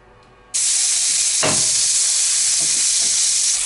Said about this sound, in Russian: Ну вот, пожарили рыбу.